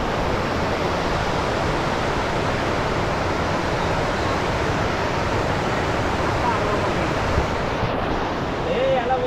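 River water rushes and bubbles at a rafting point near the Statue of Unity in Gujarat, a loud, steady, unbroken roar throughout.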